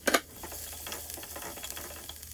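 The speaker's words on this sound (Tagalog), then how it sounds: "Ilagay ang oil, ilagay ang garlic, gisahin, onion" Garlic and onion sauté in hot oil with a steady crackling sizzle, and a sharp clatter of a utensil stirring the pan at the start.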